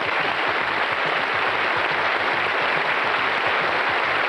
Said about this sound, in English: a big cheer for the runner-up for this series of Going for Gold